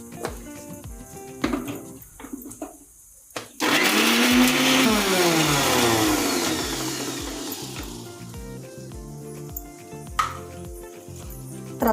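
Mixer grinder grinding tomatoes: a loud whirring motor roar starts abruptly after a few seconds of quieter clatter and sounds, its pitch shifting as the blades churn, then winds down to lighter rattles.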